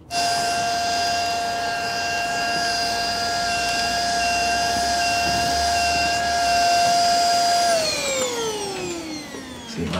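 A vacuum cleaner drones loud and steady with a strong motor whine, its pitch sliding down near the end as it powers off.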